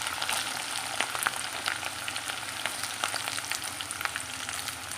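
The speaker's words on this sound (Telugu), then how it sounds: "ముందుగా కోసి పెట్టుకున్నాం కదా ఉల్లిపాయలు, పచ్చిమిరపకాయలు వేసుకోవాలండి" Sliced onions and green chillies, added after curry leaves, fry in a hot pan with a constant bright sizzle and occasional crackling pops, close and steady with no voices.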